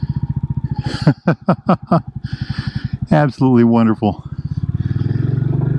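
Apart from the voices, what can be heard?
Royal Enfield Bullet 350 motorcycle riding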